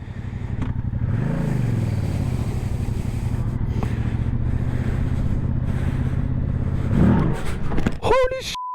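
A Yamaha MT-07 motorcycle with traction control off gives a steady close engine drone with a quick rising rev early on and another near the end, then a short burst of sharp noises at the close.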